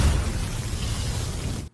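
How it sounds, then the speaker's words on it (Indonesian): A loud, dense blast of magical energy from a gate technique in a martial universe fantasy story roars with broadband force from start to finish, a sustained booming rumble that cuts off sharply near the end. "ia pun segera melepaskan ledakan energi dari teknik gerbang ajaibnya agar bisa segera mengakhiri pertempuran"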